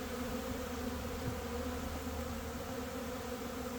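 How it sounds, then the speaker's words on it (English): Honeybees swarm in front of a hive on an orientation flight during a spring inspection, giving a steady, even buzzing drone that stays faint and continuous throughout with no voices. "It looks like they're doing an orientation flight as I'm inspecting them."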